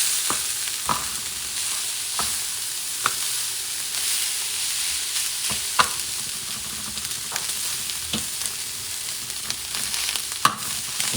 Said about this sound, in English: Now it comes the wild boar picadillo. And I'm mixing everything up, okay?